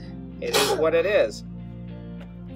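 A single sharp sneeze bursts out close by during a rifle play date at a shooting session, followed by a quiet hum.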